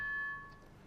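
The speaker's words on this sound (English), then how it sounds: "run both of these signals through what's called a ring modulator" A modular synthesizer patched through a ring modulator gives a sustained metallic tone with steady high overtones. It is brief and moderately loud, then thins out and fades into a softer noisy wash.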